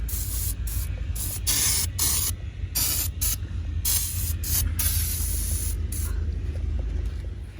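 Cleaner is sprayed onto the engine of a Mercedes C300 during a DIY engine wash, giving repeated short hissing bursts in an uneven rhythm, close by over a low steady rumble, with no talking.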